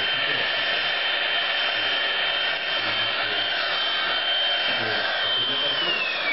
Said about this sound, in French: Chauffe un peu avec le pistolet à air chaud pour pouvoir de nouveau avoir.